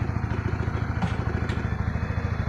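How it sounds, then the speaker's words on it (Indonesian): A Honda CBR motorcycle idles with a steady low thrum while it is shifted into gear, marked by a couple of sharp mechanical clicks close by. "coba saya masukin gigi ya"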